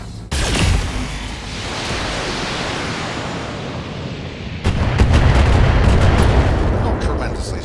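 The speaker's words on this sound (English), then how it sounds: "he will fire on that commando with everything he actually has" Mech weapons unload in the Battletech video game, a loud sustained roar of heavy fire and explosions that swells and then intensifies partway through, with sharp cracks layered on top.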